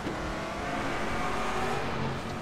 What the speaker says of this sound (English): Love the sound of the car through that tunnel.